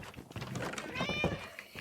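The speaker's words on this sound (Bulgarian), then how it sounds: "Има котки." Cats meowing in the video game Minecraft, with several short mews close up and over a busy game background, some speech mixed in.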